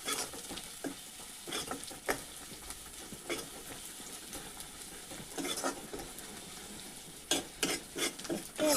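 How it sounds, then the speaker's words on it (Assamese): Onions fry in a pan with a steady broadband sizzle, while a spoon stirs and scrapes through them in irregular bursts, louder toward the end. "ৰঙা হৈ যোৱালৈকে মই ভাজি আছোঁ"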